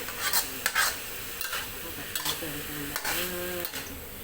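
Pork sizzles and scrapes in a hot pan as it is stir-fried, with intermittent spatula knocks against the metal, close up.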